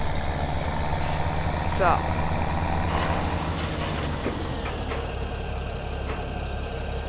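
A truck or tractor engine runs steadily and close while pulling a bale wagon, with a brief hiss like an air brake, and a voice speaks over the drone.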